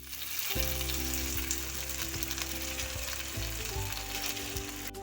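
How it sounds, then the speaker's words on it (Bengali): Cumin, white mustard seeds and curry leaves crackle and sizzle loudly in hot oil, a dense continuous frying hiss that starts abruptly and holds steady with small pops throughout. "একটু তেল দিচ্ছি আমি একটু জিরে দিচ্ছি একটু সাদা সর্ষে দিয়ে দিচ্ছি কারি পাতাটা দিয়ে দিচ্ছি"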